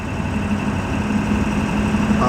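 Ford F-250 pickup with a 7.3 diesel engine idling, a steady low rumbling drone with constant vibration, close and loud, with no talking.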